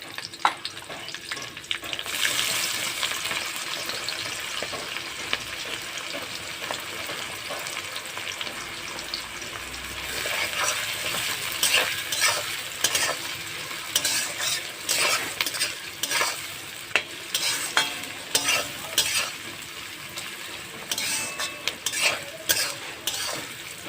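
Sliced onion and green chillies crackle in hot oil for a Bengali tempering, a steady sizzle broken by rhythmic stirring scrapes and occasional utensil clinks that grow busier toward the end.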